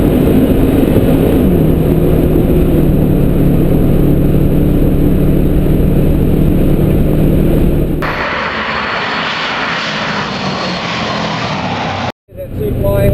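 A 2011 Subaru Forester S MRT accelerates hard onto a race track straight, its engine roaring loud and close with a rising drone before dropping to a quieter rush of road noise, then a brief cutout.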